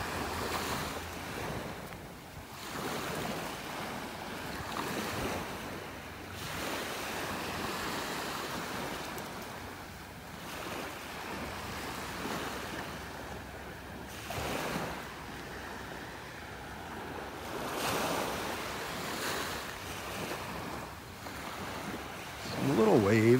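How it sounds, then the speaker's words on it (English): Small ocean waves lap gently at a North beach shore on a calm morning, a steady wash of surf with soft swells and faint wind noise, no talking. "Some little waves coming in here, just kind of lapping on the shore"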